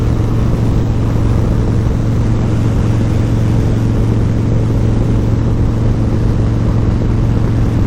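A Harley-Davidson Fat Boy motorcycle cruising down a highway gives a steady, loud low engine drone with constant wind rush throughout, never letting up.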